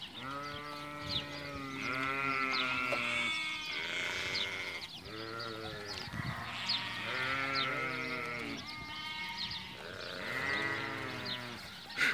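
Fat-tailed sheep (dumba) on a desert farm in Kuwait bleat repeatedly, loud overlapping wavering calls from several animals close by, one after another with brief gaps and no talking.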